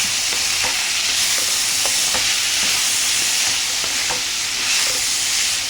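Meat frying in a salted pan is stirred steadily, with a constant loud sizzle and soft scraping strokes every second or so. Nobody speaks.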